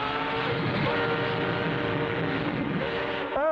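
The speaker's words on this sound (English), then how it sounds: "A train in the tunnel." A train rumbling through a tunnel, a dense, continuous roar with harmonic whining tones layered over it, steady and loud throughout with a brief shift near the end.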